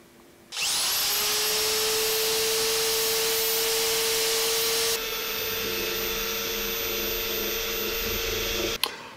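A Harbor Freight 1/2 x 18 inch bandfile belt sander starts up with a rising whine and runs loud and close at a steady pitch, then its tone changes midway as it works before switching off with a click.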